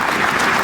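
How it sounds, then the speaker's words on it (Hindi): A brief burst of continuous crowd applause at a political welcome event, broad and steady, loud and close, with no voices standing out. "लोगों से आग्रह किया कि आप भी ताली बजाइए"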